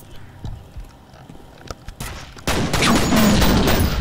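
A grenade explodes in the shooter game F.E.A.R., a sudden loud burst that starts a sustained roaring blast and debris wash after quieter scattered shots and movement.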